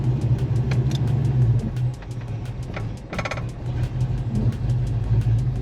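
A Ford Fox Body car with an AOD automatic, freshly fitted with a 2400 stall converter and shift kit, idles steadily with a low, loud engine rumble that holds throughout, with a brief dip partway before settling back.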